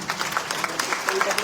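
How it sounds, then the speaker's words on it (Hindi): Audience clapping at a religious discourse on guru devotion at an ashram in Rishikesh, steady scattered applause with irregular claps throughout. "भाई जितना आनंद आया ना उतनी ताली दीजिए जी"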